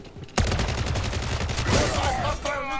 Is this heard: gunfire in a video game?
yes